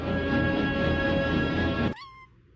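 A fluffy cat lets out a single loud, drawn-out meow at close range, ending in a short upward-bending tail before fading.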